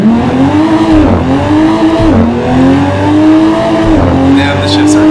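A BMW 3 Series engine drones steadily in the Assetto Corsa racing game, revving up between quick gear shifts with exhaust pops, loud and continuous.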